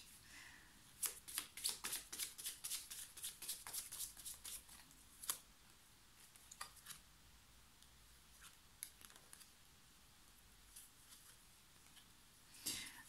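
Tarot cards being shuffled and drawn: a run of quick crisp riffling snaps for several seconds, then scattered softer card slides and taps, close and fairly quiet.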